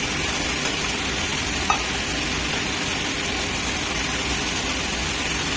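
Macher jhal, a fish curry, in a pan after water is added: a loud, even, continuous hiss and bubbling sizzle with no pauses and only one small click, with no one talking.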